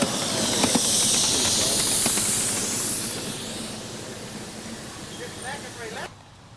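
Steam locomotive venting a loud, broad hiss of steam that holds steady and then gradually eases off, with a faint rumble underneath and a voice talking over it.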